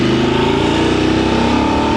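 A Voge 900 motorcycle engine pulls hard through the gears on a ride, a loud, steady mid-pitched drone with a rising tone and wind rush throughout.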